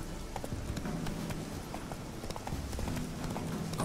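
A horse gallops in The Witcher 3, a fast, continuous clatter of hooves that stays loud and even throughout with no pauses.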